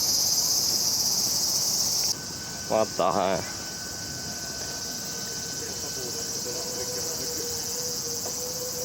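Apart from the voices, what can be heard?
grasshoppers or crickets chirping outdoors in Japan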